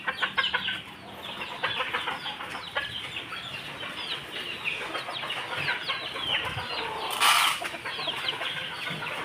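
Backyard chickens cluck and chatter steadily while being fed, a dense flock sound close by with a brief flapping burst near the end.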